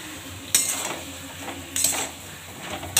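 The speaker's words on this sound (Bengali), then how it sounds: "এবার নাড়বো" Vegetable curry with coriander leaves and tomato being stirred in a pan, two distinct scraping clinks of a spoon against metal over a faint background sizzle, no talking.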